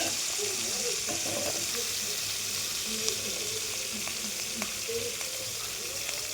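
Onions fry in a pan over low heat, giving a steady, dense sizzle that runs unbroken throughout, close and fairly loud, with a few faint ticks and pops.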